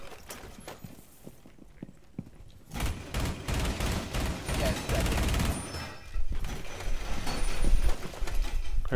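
Gunfire in the video game Rainbow Six Siege, starting with sparse, scattered shots and building into dense, loud bursts of rapid fire mixed with clattering mechanical noise, with a player talking over parts of it.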